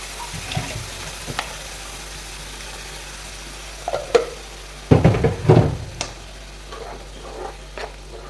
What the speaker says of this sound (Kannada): ನಾನು ಅದರಲ್ಲಿ ನೀರು ಹಾಕ್ತಾ ಇದ್ದೀನಿ ಸ್ವಲ್ಪ.